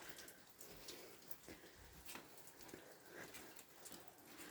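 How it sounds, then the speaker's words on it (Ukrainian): Soft, gentle rain falls at night in a rural yard where apple trees bloom, with no thunder or wind. A faint, steady patter of drops comes close by, with scattered individual drips standing out above the quiet wash. "У нас уже більше години йде отакий гарний тихий дощ"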